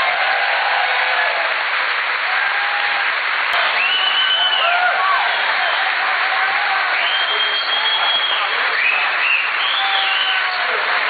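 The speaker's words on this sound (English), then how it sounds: "please give a round of applause to Lieutenant Governor Michael Fedele." Sustained rally crowd applause in Stamford for Lieutenant Governor Michael Fedele, loud dense clapping running steadily throughout with scattered whoops and cheers rising above it.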